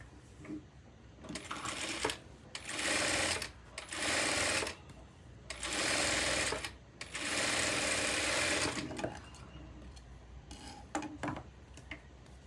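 A sewing machine stitching a pleated drape blouse runs in several bursts of rapid, steady whirring, two to three seconds each, separated by quieter pauses, close up and with no talking.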